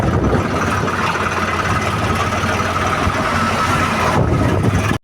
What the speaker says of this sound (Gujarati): જો આ ડમ્ફર એક આવે રહ્યું